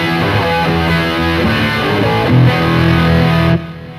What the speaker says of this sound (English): Let's add an MXR flange.